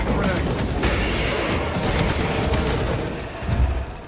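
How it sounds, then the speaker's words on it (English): A crack grenade detonates in the Space Marine video game amid a dense, sustained battle roar, with booming blasts and gunfire rumbling continuously throughout and a heavier thump near the end. "Throwing crack grenade."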